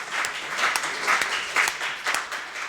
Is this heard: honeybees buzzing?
no